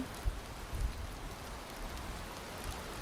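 A rain sound effect plays softly behind an art stream: a steady, even hiss of falling rain with a few faint low thumps, quiet and continuous with no voices.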